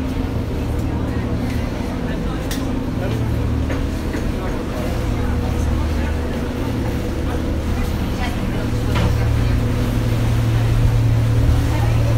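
A sightseeing boat cruising the river in Paris on a clear day, with a steady low engine drone and water wash throughout, and faint voices and scattered clicks mixed into the continuous rumble.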